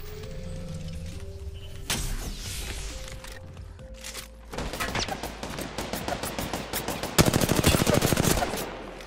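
Gunfire in the video game Apex Legends, loud automatic bursts of closely spaced shots that grow denser and heavier toward the end, with scattered mechanical clicks and game tones earlier on.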